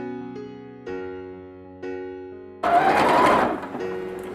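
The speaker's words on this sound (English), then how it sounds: "just sew a little straight stitch back and forth here" A sewing machine runs in short bursts of straight stitching back and forth on a small fabric bag, heard in close, brief runs separated by pauses.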